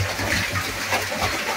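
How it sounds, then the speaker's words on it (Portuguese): Water gushes steadily through the opened gate of a fishing pond, a dense continuous rushing flow without pauses, close and fairly loud, with no talking. "Cachoeira pra vocês aí, ó."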